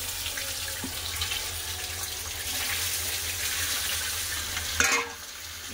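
Meat hitting hot oil in a pan with whole garam masala, bay leaf and cumin: a loud, steady sizzle and hiss that fills the whole stretch, broken by a sharp clatter near the end.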